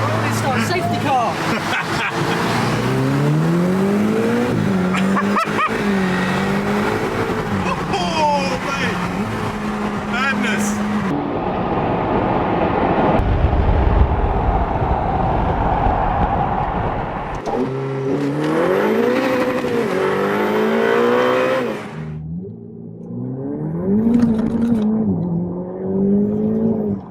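Ferrari F8 Tributo on a race track during a rolling start behind a safety car, its engine note rising and falling through revs in bursts, with a quieter lull midway and someone talking over much of it.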